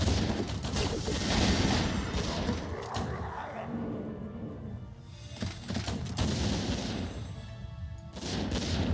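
Warcraft III Mortar Team artillery fire: repeated booming blasts and crashes roll in a dense, continuous barrage of explosions, loud and busy throughout the battle.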